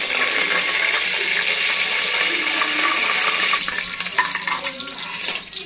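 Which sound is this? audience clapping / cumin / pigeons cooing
cumin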